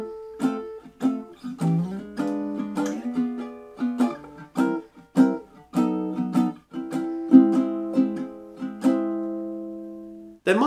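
Baritone ukulele intro in the style of an old-time song, plucked and strummed chords sliding up into diminished shapes, ringing in an uneven phrased rhythm, played solo and close.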